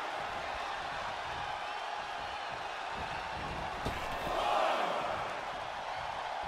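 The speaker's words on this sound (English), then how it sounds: "The sound of this crowd is deafening, and he's asking for more." A packed wrestling arena crowd roars throughout a six-man tag team match on Raw, a loud, steady wall of cheering that swells briefly near the end.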